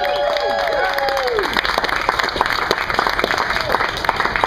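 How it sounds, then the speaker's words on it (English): Concert audience applauding a trio with cello and violin, steady clapping with crowd noise while a few sustained instrument tones fade out at the start. "Let's have a big round of applause"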